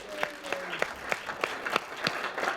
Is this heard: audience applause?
yes